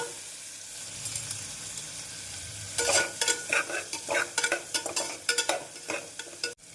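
Chopped onions sizzle steadily in a pan with rock salt for minced meat curry while a spoon clatters and scrapes through them in quick, irregular bursts, up close and fairly loud.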